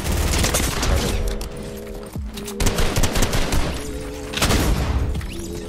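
Rapid bursts of gunfire in a Fortnite Reload ranked match, loud and dense, with repeated volleys and a short gap in the middle before the shooting resumes.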